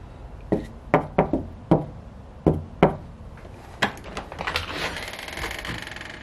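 Soft knuckle raps on a house door, two quick pairs then single knocks spaced out, close and clear, followed by a door opening and a bustle of movement.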